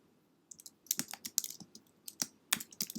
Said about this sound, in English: Okay, so now we want to type it.